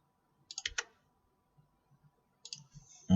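A computer mouse clicks during work in SketchUp: a quick cluster of sharp, close clicks, then a pause with faint soft taps, and another short burst of clicks.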